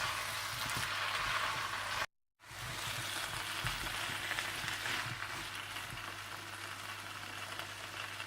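Potatoes and fenugreek leaves for aloo methi cook over low heat in a pan. They give a steady, soft sizzling hiss throughout, broken by one brief gap.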